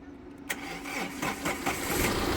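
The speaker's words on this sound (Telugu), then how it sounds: "ఒకసారి బండి స్టార్ట్ చేయి ఒకసారి కార్ స్టార్ట్ చేయి" A 2015 Tata Safari Storme VX engine cranks briefly, catches, and settles into a steady idle close by.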